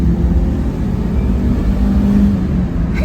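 A turbocharged Mitsubishi Townbox engine drones steadily at full throttle while climbing a hill, a loud, continuous low roar heard from inside the cabin with no pauses or speech.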